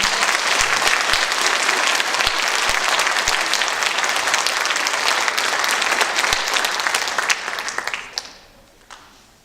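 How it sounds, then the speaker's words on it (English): Sustained round of applause from an awards ceremony audience, dense and loud for about eight seconds before tapering off into a few scattered claps. "we ought to give them a round of applause"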